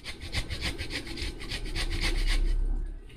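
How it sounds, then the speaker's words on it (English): Lemon zest is rasped off a piece of lemon on a grater in quick rhythmic strokes, about a dozen scraping passes at close range. "you're going to take a piece of lemon and grater a little bit of that lemon zest"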